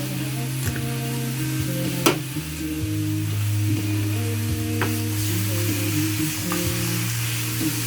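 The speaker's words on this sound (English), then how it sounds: "Keep hearing that sizzle." Zucchini sizzles steadily in a frying pan, a constant crackling hiss with a few sharp pops and scraping stirs along the way.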